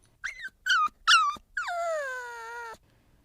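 A brown-coated puppy with big black eyes gives three short rising whimpers, then one long drawn-out whine that slowly falls in pitch and cuts off, close and clear with no other sound.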